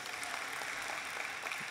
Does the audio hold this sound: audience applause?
yes